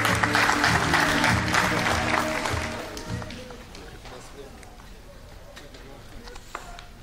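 Audience applause at a documentary film festival gala in Turkey as the chairman is invited onto the stage, a loud wash of clapping for about three seconds that thins out and fades, leaving a quieter hall with scattered claps.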